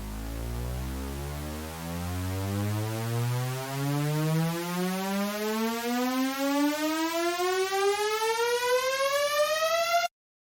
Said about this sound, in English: which creates a really, really nice and easy riser